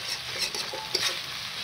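Chicken and onion frying and being stirred in a pan for a chicken kosha dish, a soft steady sizzle with light scraping of the spoon against the metal.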